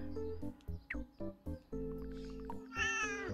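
A cat meows close and clear in a quick run of short, rhythmic calls, then ends on a longer, higher meow, with no talking.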